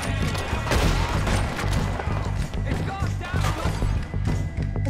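Gunfire in the Western video game Red Dead Redemption 2 during a fight with O'Driscoll gang members: repeated sharp shots and thuds over a loud, rhythmic pulsing game score, with a player talking over the action.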